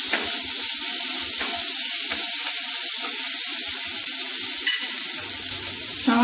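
Water hitting hot oil and spices in a pan for chickpea ghugni, a bright continuous sizzle with a few stirring clinks, close and steady.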